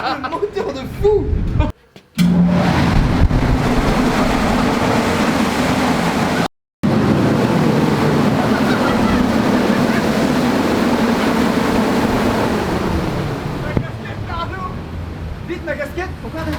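A BMW M3 roars hard on a dyno inside a tuning shop, a loud, sustained high-revving engine note filling the space for many seconds, cutting out briefly twice and easing off near the end as excited voices laugh nearby.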